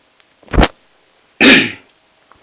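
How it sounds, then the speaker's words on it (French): Two separate coughs from one person indoors, close to the microphone: a short sharp burst, then after a pause a longer, harsher one, with near silence around them. "excusez-moi, je tousse un peu"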